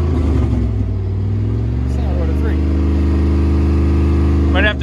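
A Dodge truck engine struggles to idle, giving a close, loud, uneven low rumble that wavers and surges, with brief talk at the start and end.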